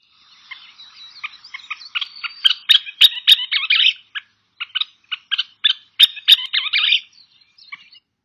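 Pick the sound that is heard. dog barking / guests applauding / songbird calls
songbird calls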